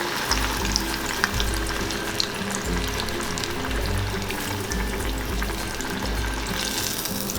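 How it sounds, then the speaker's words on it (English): Croquettes deep frying in hot oil, a loud steady bubbling crackle that runs continuously and close up with no talking. "You can fry 2 at a time if you want."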